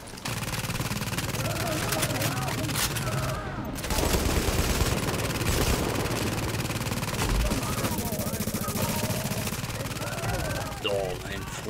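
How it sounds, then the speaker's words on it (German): Gunfire from the video game The Division, a whole magazine emptied in rapid automatic bursts that keep going, loud and dense, with game ambience and a voice talking over it. "Steht genau vor mir und ich schieße ein ganzes Magazin daneben."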